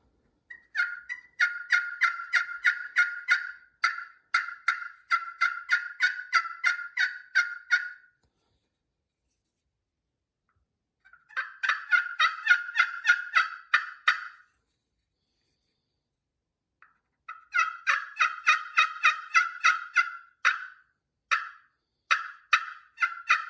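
A handmade turkey call imitating a gobble, sounding in three loud, rattling bursts of rapid, repeated throaty notes separated by silent pauses, close and alone with no talking.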